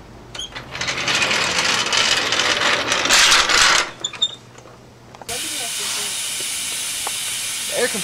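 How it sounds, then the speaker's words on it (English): An air compressor hisses loudly and steadily during a brake job, cuts off briefly, then resumes as a softer continuous hiss of air. "Air compressor."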